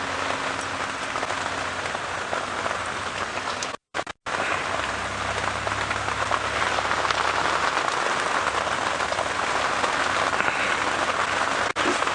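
Heavy rain pours steadily during an early-morning safari drive, a loud, dense hiss that continues unbroken for the whole stretch apart from one very brief dropout.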